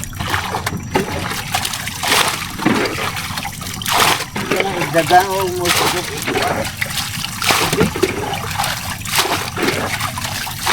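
Seawater leaking into a small fishing boat: continual splashing and trickling close by, heard under ongoing talk.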